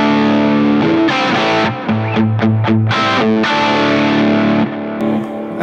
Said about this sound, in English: You can hear the echo there.